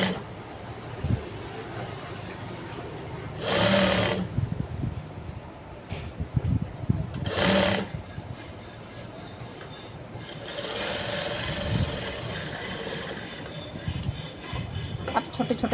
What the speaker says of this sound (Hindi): तो इसकी सिलाई अब हम शुरू करते हैं।